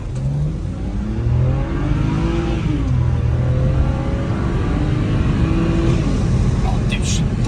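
A BMW E90 sedan accelerates hard with traction control off, engine note rising through repeated revving sweeps and gear changes, loud and close from inside the car.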